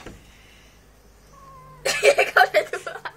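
A cat meows: a faint thin call, then a loud burst of several rapid, harsh cries close by after a quiet start.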